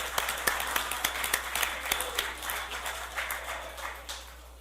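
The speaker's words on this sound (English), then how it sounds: "give yourself a round of applause." A government class audience claps in a moderately loud round of applause, with distinct individual claps standing out over the steady patter before it gradually thins toward the end.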